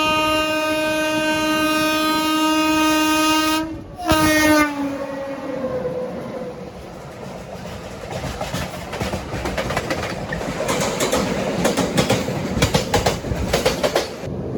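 A MEMU Express train running between stations sounds a long, loud horn blast that cuts off and briefly resumes, followed by the building rumble and rhythmic clatter of the carriages on the track.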